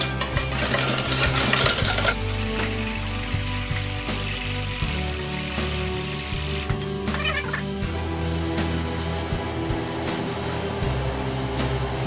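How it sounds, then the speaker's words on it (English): Eggs and about two ounces of sugar whisked together in a bowl for a chocolate pudding, giving a steady clatter of metal against the bowl that runs close and continuous throughout, with occasional knocks. "whisk it together"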